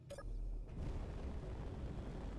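In the modded Space Engineers video game, a glitched engine gives a loud, steady roaring rumble like a blast that does not fade, preceded by a brief high electronic beep at the start.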